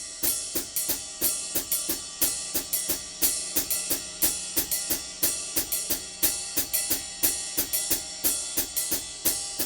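A drum kit plays a steady ride cymbal pattern against foot-operated hi-hat chicks in a three-against-two polyrhythm, with evenly spaced bright strokes throughout, close and alone.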